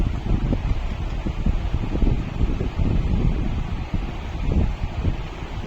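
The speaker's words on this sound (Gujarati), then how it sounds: "6 પંખા ચાલુ થઈ ગયા છે અને મસ્ત પવન આવે છે" A new laptop cooling pad with six fans running, a loud, steady whooshing airflow noise with a rumbling low end that continues without a break.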